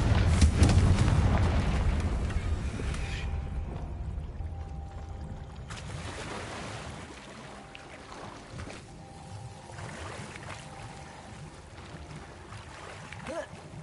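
In Hogwarts Legacy, a Confringo explosion spell goes off with a loud, booming blast that fades into a long rumbling tail and lower crackling debris.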